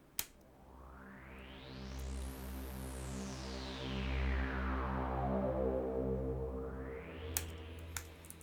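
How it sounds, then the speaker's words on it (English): A soft sweep synthesizer motion sequence from EXS24 in Logic Pro plays a sustained, evolving pad in the style of the Stranger Things theme. A filter glides up and then down, starts again near the end, and stays quiet and smooth, with a couple of faint clicks. "it's basically a synthesizer motion sequences in EXS24. You find soft sweep, and here's how it sounds."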